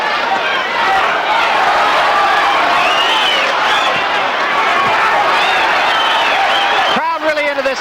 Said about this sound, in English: Crowd really into this fight now